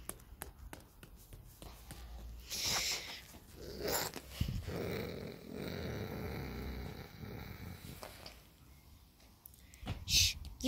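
A child makes low, breathy growling noises in imitation of an animal while playing with toy animals, soft and close, with quiet whispered talk and rustling around it.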